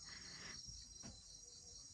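Crickets chirping at night in a forest beside a thatched cottage, a steady high, shrill trill, faint and continuous, with soft low thumps underneath and no voices.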